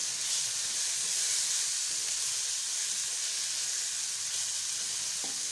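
Ajwain seeds and then tomatoes frying in a pan for fish salan, giving a continuous even sizzle and hiss throughout with no talking.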